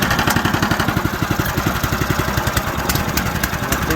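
A small gasoline engine runs steadily after a first-pull start with choke on and throttle set, its rapid, even chugging pulse loud and close throughout with no talk over it.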